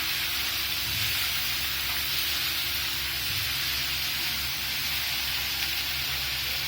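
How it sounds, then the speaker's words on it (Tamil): Tomatoes and onions sautéing in a pan for a garlic kara kulambu give a steady, dense sizzle that holds at an even level throughout, with no voices. "நல்லா தக்காளியும் வதங்கட்டும்"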